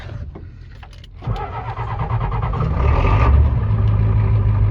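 A 1992 Ford F-250 with the IDI diesel cranks on ether, catches after about a second and settles into a loud, rough, uneven idle up close.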